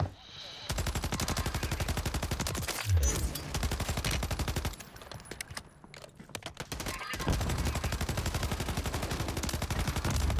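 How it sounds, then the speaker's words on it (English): Rapid automatic gunfire in the Call of Duty: Modern Warfare 3 Warzone video game, loud sustained bursts of shots with brief pauses and a few heavier hits, continuing through most of the stretch. "Missed some shots, but get the kill, thankfully."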